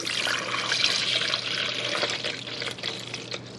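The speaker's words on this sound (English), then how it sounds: "So we're going to use the coffee pot to fill it." Water from a coffee pot pours steadily into a coffee maker's reservoir, a continuous close splashing trickle with no speech.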